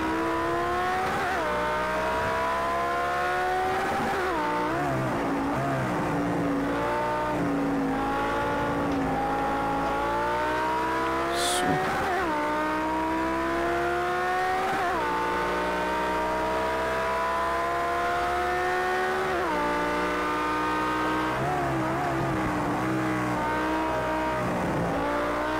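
A Lamborghini Huracán engine in Project Cars 2 at Brands Hatch revs up through the gears in repeated rising sweeps, dropping sharply at each shift, loud and continuous with no voices.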